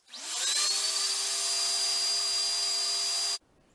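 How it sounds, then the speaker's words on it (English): A power sander working the edge of a wooden lazy susan: the motor spins up to a steady high whine with a hissing abrasive rush, runs evenly for about three seconds, then cuts off abruptly. "Now I have to sand the edge."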